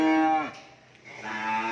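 Cattle on a Vietnamese cattle farm give a loud, close moo, a long tonal low that dips and then swells again with no talk over it.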